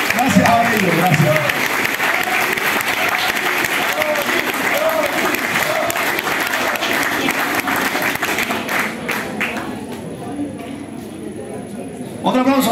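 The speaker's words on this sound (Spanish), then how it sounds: "Otro aplauso para Paco." Applause from a studio audience on a Spanish-language variety program, a steady broadband clatter of clapping running throughout, loud and continuous, easing slightly near the end, with speech beneath it.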